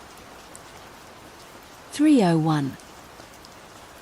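Steady rain falls through the whole stretch at a moderate level, a continuous soft wash with no breaks, and a single voice speaks briefly over it near the middle.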